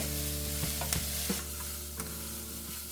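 Vegetables and onion stir-fry in a single pan for chow mein, giving a continuous close sizzle with occasional light scrapes and clicks from stirring; no talk.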